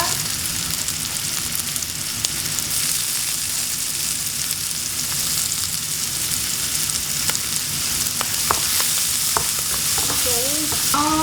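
Ground beef stir frying in a hot pan with paprika in a home kitchen, a loud continuous sizzle and crackle with scraping stirring, plus sharp clinks of a utensil near the end.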